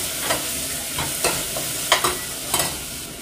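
Onions, fennel and curry leaves frying in a pan while a spoon stirs them, a steady bright sizzle broken by several scraping stir strokes, close and moderately loud, with no voices.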